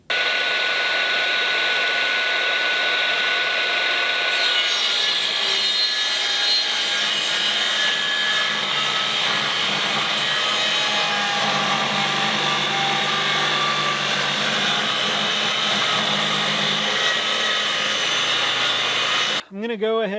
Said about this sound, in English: So I'll set up the saw and we will start ripping these down.